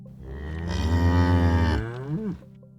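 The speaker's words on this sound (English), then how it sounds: "a big cow going moo" A big cow gives one long, deep, loud moo that sustains steadily before bending down in pitch at the end, close and alone.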